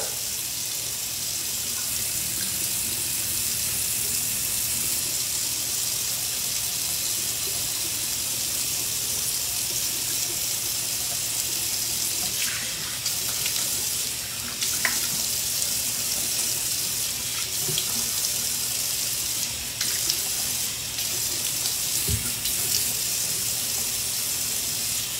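A bathroom tap runs steadily while someone washes makeup off their face: a continuous, even hiss of water with faint splashes and small clinks, and no one speaking.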